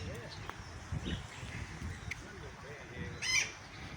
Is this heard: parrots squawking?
yes